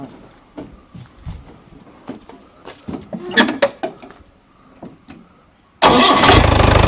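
A vintage jeep engine, one of a collection of old vehicles used in films, cranks and fires into a loud, steady roar after several seconds of quiet clicks and handling noises.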